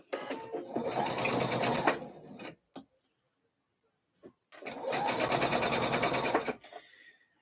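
A sewing machine stitches along the raw edge of fabric under the presser foot. It makes two bursts of rapid mechanical whirring separated by a short pause with a couple of faint clicks.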